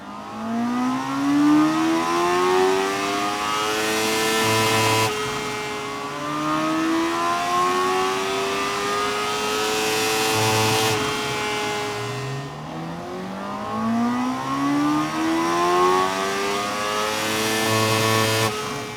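A Honda CB1000 Hornet SP motorcycle engine is revved hard on a dyno, rising steadily in pitch through three long full-throttle pulls, each ending in a sharp drop, loud and close with no voices.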